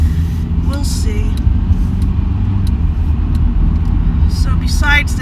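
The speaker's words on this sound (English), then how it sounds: "There's so much traffic." Inside a car on a busy road, steady low engine and tyre rumble with passing traffic underneath, and faint bird chirps or squeaks breaking through now and then.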